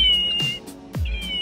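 A plush toy cat gives out recorded meows, two electronic-sounding cries with steady tones between them, close by and fairly loud, with no talking.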